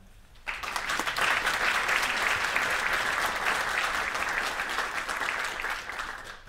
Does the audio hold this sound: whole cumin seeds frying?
no